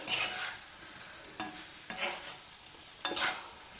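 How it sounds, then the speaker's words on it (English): Potatoes and masalas are tossed with dal in a cast iron pan, giving a soft sizzle punctuated by three or four distinct scraping, rattling strokes of a spoon against the metal, close and fairly quiet. "add in this potatoes and masalas all together. Toss everything around."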